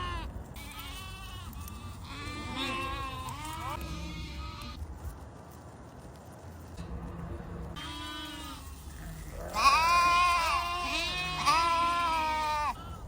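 A lamb in a field in Armenia bleats repeatedly while being caught to remove a plastic bag from its mouth. The cries are close and insistent, growing louder toward the end, over faint outdoor background.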